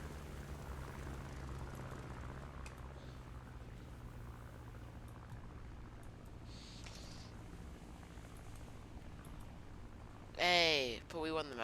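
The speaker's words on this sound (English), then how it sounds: "Engine sounds like it's about to give way." A strained aircraft engine drones steadily and loudly throughout in a combat flight game, a low propeller hum filling the background, with a sharp whistling burst near the end.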